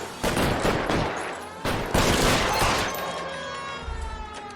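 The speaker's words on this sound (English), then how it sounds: "Look how bad these cops are shooting." Police fire bursts of gunfire in a video game: rapid overlapping shots in two loud volleys, close and sharp, with a faint siren-like tone beneath.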